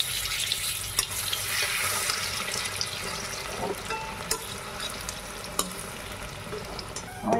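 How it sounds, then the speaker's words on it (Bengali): Batter-coated bread snacks fry in hot oil in a wok, a steady loud sizzle with occasional sharp clicks and scrapes of a utensil turning them. "এরকম করে করেই আমি সবগুলোকে ব্যাটার দিয়ে ভেজে নেব।"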